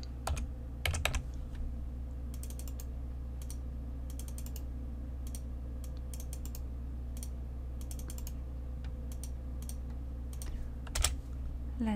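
Typing on a computer keyboard while writing Excel VBA code, with light clustered keystroke clicks in bursts over a steady low hum and a few louder key taps, no speech.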